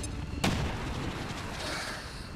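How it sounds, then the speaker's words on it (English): A grenade thrown in XCOM 2 bursts in one sharp loud explosion just after the start, followed by a long rumbling decay with scattered debris noise. "Throwing grenade."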